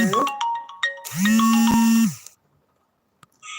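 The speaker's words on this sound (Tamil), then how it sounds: "சாரி ஃப்ரெண்ட்ஸ் ஃபோன் வந்துடுச்சு" A mobile phone ringtone chimes loudly and close by in a home during a Satyanarayana puja, a melodic tone sequence running about two seconds before cutting off into near silence.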